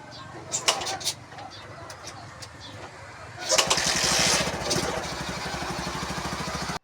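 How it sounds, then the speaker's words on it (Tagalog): A motorcycle engine starts up outdoors and settles into a steady, loud idle with a rapid throbbing pulse, after some earlier clicks and birdsong in the background. "Grabe nindot ug andar sa motor gyud mura na gyud helicopter gwapo kay andar."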